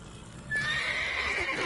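A horse in The Witcher 3 gives one close, loud whinny that rises and holds to the end, following a quieter lead-in.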